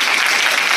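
Audience at a women's college award ceremony applauding the principal, a dense, loud wash of clapping hands filling the whole moment with no gaps.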